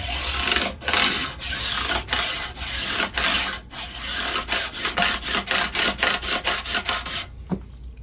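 Guitar frets are leveled with a file in repeated rasping strokes, broad scraping passes that quicken into a regular back-and-forth rhythm before a brief stop, close and loud.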